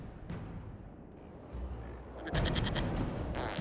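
Goat bleating in the fantasy video game Dragon Age Inquisition, a quiet wavering bleat rising late over low game ambience and soft background noise.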